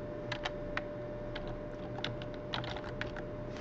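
Fingers tap on a computer keyboard in light, irregular clicks, close and fairly quiet over a steady background hum.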